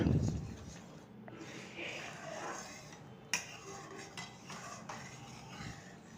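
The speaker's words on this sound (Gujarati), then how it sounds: "હવે આપણે કન્ટિન્યુઅસ ચલાવશું ને સાઈડમાંથી લેતા જઈશું બધું" A spoon scrapes and stirs thickening milk sweet in a metal pot, soft continuous scraping with occasional sharper clinks against the rim, fairly quiet and close.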